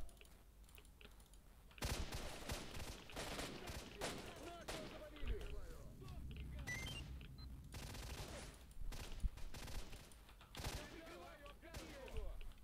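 Gunfire crossfire in the shooter game S.T.A.L.K.E.R.: Shadow of Chernobyl, with bursts of sharp shots and rattling automatic fire breaking out after a quiet start and recurring irregularly throughout.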